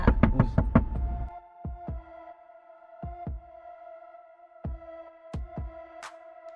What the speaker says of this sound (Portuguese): o amigo do Nate chega todo desesperado batendo na porta.